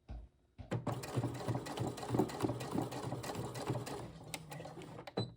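A sewing machine back stitching fabric for a boxy bag, its rapid motor-driven needle chatter running steadily and up close after a brief quiet start, with a couple of short clicks near the end.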